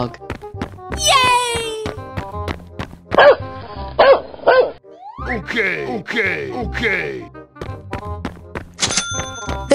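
Cartoon dog barks repeatedly in short, loud bursts over a busy animated soundtrack with music, boings and chimes; a voice calls out too.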